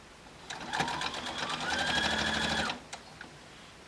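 A sewing machine runs in a short, steady burst of rapid stitching through a quilted placemat tote bag, whirring for about two seconds before stopping with a couple of soft clicks.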